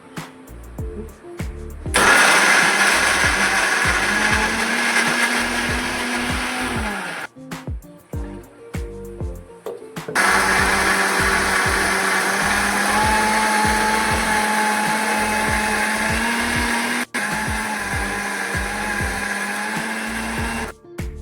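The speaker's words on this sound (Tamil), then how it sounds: "இந்த மிக்சியை அரைச்சிக்கணும்" Kitchen mixer grinder crushing coconut, ginger, garlic, fennel and poppy seeds for mutton kurma, running in several loud whirring bursts with brief pauses between them.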